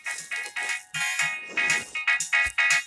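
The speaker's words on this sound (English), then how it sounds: "a phone is ringing" A phone ringing nearby in repeated short electronic tone bursts with brief gaps, loud and insistent, without talking.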